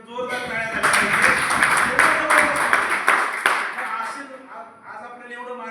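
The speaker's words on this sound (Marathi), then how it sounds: "सरांनी एवढं सांगितलं, सरांसाठी एकदा जोरदार टाळ्या झाल्या पाहिजे." A seminar audience at a Modicare leadership program in Lonavala breaks into dense, loud applause lasting about three seconds, then the clapping thins out beneath murmuring voices.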